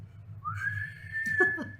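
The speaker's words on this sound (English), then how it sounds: "You're official with that whistle." A whistle gives one short, steady high tone that rises and then holds for about a second over a low background hum.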